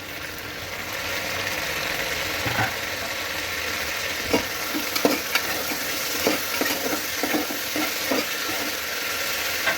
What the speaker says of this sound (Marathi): हे 2 मिनिटं मी भाजून घेणार आहे तुपामध्ये।